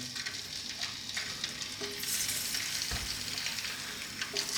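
Quail fry in hot oil in a skillet, a dense steady sizzle close by with occasional crackles and a brief scrape or thump, continuous and without talking.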